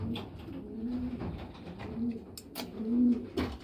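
Pigeons in a loft coo repeatedly in low, drawn-out rolling phrases, several calls close by and moderately loud, with occasional sharp clicks or flutters between them and no talking.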